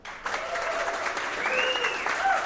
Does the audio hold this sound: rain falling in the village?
no